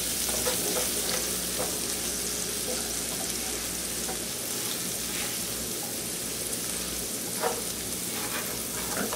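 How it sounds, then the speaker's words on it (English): Diced onion gently sautéing in leftover bacon fat and crispy bits in a pan, a dense, continuous close sizzle with faint crackles throughout. "Now we want to saute them gently until they're tender."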